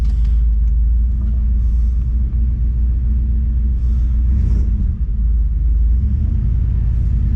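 A 1966 Ford Fairlane Z-Code with a 390 FE V8 and 4-speed manual being driven, its engine a loud, deep, steady rumble heard from inside the car with slight swells in intensity.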